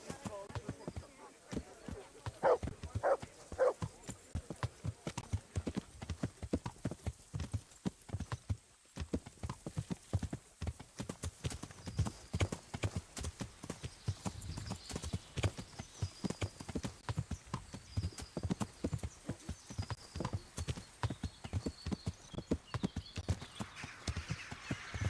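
A horse ridden in Kingdom Come: Deliverance gives a continuous rhythmic clip-clop of hooves for the whole stretch, with a brief whinny early on and occasional talk over the hoofbeats.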